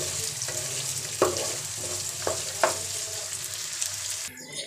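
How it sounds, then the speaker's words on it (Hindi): Chopped onions frying in hot oil for a whole-spice chicken curry, a steady dense sizzle with a few sharp crackles and spatters, close and continuous, ending in a brief softer scrape. "प्याज को हम फ्राई कर लेंगे लाइट ब्राउन होने तक"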